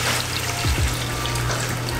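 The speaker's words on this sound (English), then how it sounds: "And then we're going to add the beef broth." Beef broth is poured into a pot roast, a steady liquid trickle and splash running throughout at moderate volume, close by.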